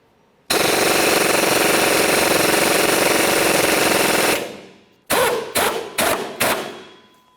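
Impact wrench on a Chevrolet Cobalt rear shock absorber bolts: one long, loud continuous hammering burst of about four seconds, then a pause and four short sharp bursts in quick succession, close by with no talking.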